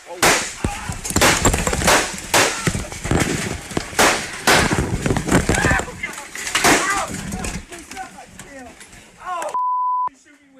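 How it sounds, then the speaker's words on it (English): Rapid bursts of gunshots crack out in sharp clusters, some close and loud, followed by a quieter gap and an electronic beep tone at the end. "you could hear the gunfire start"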